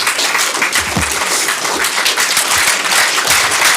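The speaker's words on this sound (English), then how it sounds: "Maybe you can raise up and give them a warm applause." A panel debate audience gives warm applause, loud sustained clapping from many hands filling nearly four seconds with a few sharper close claps standing out.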